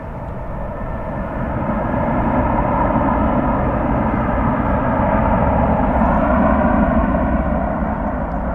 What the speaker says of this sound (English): 747 to Louisville take off from this side of the runway